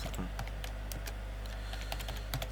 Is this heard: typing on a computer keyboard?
yes